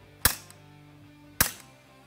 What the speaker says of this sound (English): We'll dry fire it.